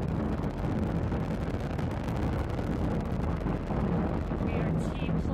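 A deep, continuous roar of the nine Merlin first-stage engines of a Falcon 9 rocket during launch, heavy rumbling with a wind-blown texture, steady and loud throughout.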